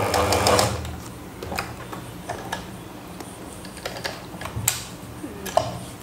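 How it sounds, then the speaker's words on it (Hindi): A sewing machine stitches along a fabric cord, its fast rattling needle running in short close bursts with small mechanical clicks and pauses between runs. "डोरी को सिलाई लगाने शुरू करनी है"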